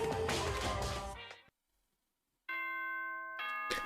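A chiming announcement tone from the game Danganronpa rings out in bright, sustained bell notes. A burst of sound comes first, then a brief silence, then the chime returns with a sharp tap at the end.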